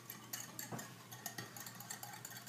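Gelatin mixture whisked quickly in a bowl, a faint, quick series of light scraping and tapping strokes in an irregular rhythm, close by and quiet.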